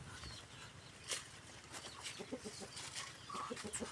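A chicken clucks intermittently amid busy outdoor rural background noise in Mindoro, fairly faint and scattered.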